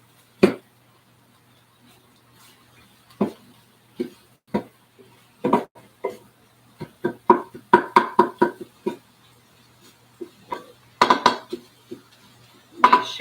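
Irregular clinks and clatters of a spoon against dishes in a home kitchen, with sparse isolated knocks early that turn into busier bursts of stirring and ceramic rattling, close and distinct over near silence.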